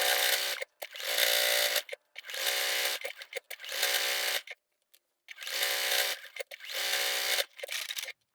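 A sewing machine chain-pieces quilt block pockets for Dresden plate placemats, stitching through five layers of vintage quilt fabric. It runs in five loud, steady bursts with brief pauses between them, and no one speaks.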